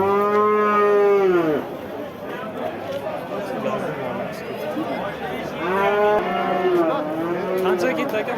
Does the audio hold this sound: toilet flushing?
no